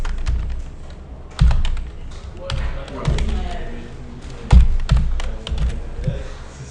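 Computer keyboard typing, with clustered key clicks and a few heavier thumps in irregular bursts, heard up close while someone speaks French over it.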